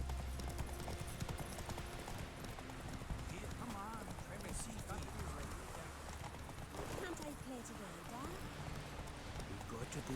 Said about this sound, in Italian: Mannaggia il cavallo che svirgola.